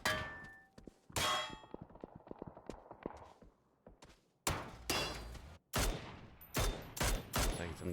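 Gunfire from a PUBG esports tournament match on the snowy Vikendi map: sharp metallic shots and bursts crack out in clusters, loud and close, with short gaps of quieter rattles between volleys.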